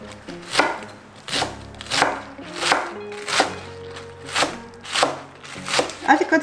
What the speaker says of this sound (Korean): 쪽파 500g. 굵은 거는 이렇게 칼집만 넣어주세요.